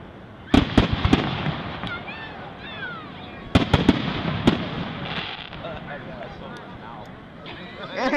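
Fireworks grand finale at a Shepaug display, loud, close clusters of bangs and crackles in two bursts, followed by fizzing and whistling trails, with people talking and a crowd murmuring throughout.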